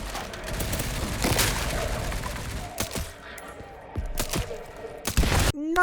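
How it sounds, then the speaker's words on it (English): Soldier zombies in a Resident Evil-style game fire their guns in a ragged fusillade of close shots and thuds, heavy at first and then in scattered single bursts. "Then we also have some soldier zombies who can shoot at you."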